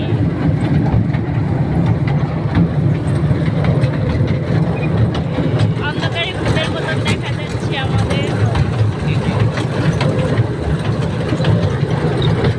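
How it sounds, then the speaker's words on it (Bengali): A train rolls along with a steady, heavy low rumble and rattle that continues throughout, while people talk over the noise. "যাচ্ছি ট্রেনে।"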